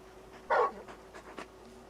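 Torgal, the large wolf-like dog from Final Fantasy XVI, pants softly in a few quick breathy puffs with a faint whimpering tone, close and quiet over a low game background hum.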